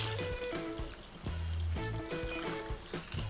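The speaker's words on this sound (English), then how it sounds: "We've got the broken up chocolate and our milk mixture here that is very, very hot. So I'm going to pour that over the top." Very hot milk mixture pours over broken-up chocolate, a soft, close trickling and gurgling stream with small uneven splashes.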